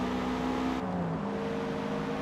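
Toyota GR86 engine in the racing game Forza Motorsport, a steady droning hum that dips in pitch partway through, continuous and close with no talk over it.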